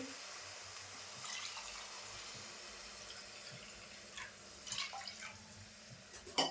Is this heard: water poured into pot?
yes